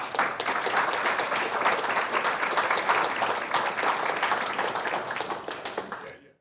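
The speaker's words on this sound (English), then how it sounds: "please give yourselves a round of applause" A roomful of guests at a customer appreciation awards dinner applauds themselves, a thick, continuous clatter of many hands that stays full and even before quickly dying away at the end.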